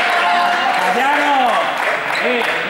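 A classroom group clapping in a steady, broad wash of applause that runs the whole time, loud and close, with a voice speaking over the clapping.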